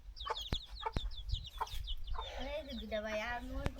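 A naked-neck chicken clucks in a rural riverside island village, a run of short close clucks followed by a longer drawn-out call, with a few sharp knocks around it.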